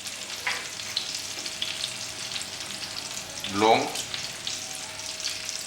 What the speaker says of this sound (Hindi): इसे हल्का सा मैं सौते कर देता हूँ।